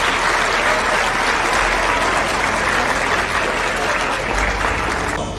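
An audience at a school event claps loudly and continuously, dense steady applause filling the whole stretch with no talking.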